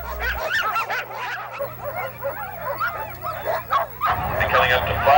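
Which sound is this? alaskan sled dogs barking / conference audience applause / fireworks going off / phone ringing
alaskan sled dogs barking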